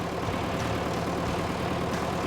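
A DT75 crawler tractor engine runs steadily at a low idle-like rumble, a constant dense drone with no break and no voices over it.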